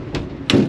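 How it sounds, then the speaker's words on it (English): Bathroom door on a moving Amtrak Superliner train, in cars 30 to 40 years old, banging against the wall with two sharp knocks over steady rumbling train noise. "you will hear the bathroom door continuously hitting the wall because it's not,"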